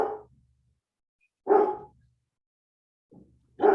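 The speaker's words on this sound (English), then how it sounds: "a barking dog in the background who has a lot of questions" A dog barks in the background during a council meeting, three clear single barks spaced about 1.5 seconds apart, each short and moderately loud against otherwise near-silent room tone.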